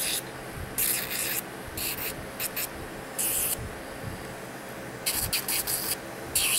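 Fingernails are buffed to take the shine off, giving short bursts of dry, hissing rubbing strokes that start and stop at irregular intervals, close up with no talking.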